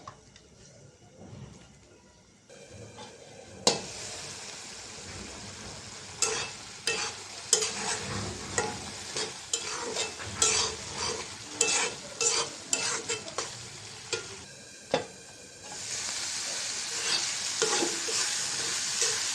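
Potatoes and spices are sautéed in a pan for a Bengali fish dish, a close sizzling fry broken by repeated rhythmic scraping strokes of a spatula against the pan, growing busier before settling into a loud, even sizzle.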